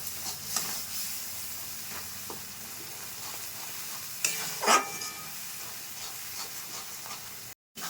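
A spice paste with red chili powder is sautéed in a pan for a prawn curry, a soft, steady sizzle with occasional scraping stir strokes and one brief louder clatter, and no one talking.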